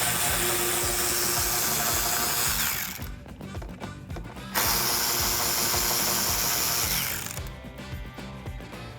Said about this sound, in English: I'll use my clip tool and a 7mm socket to pull those off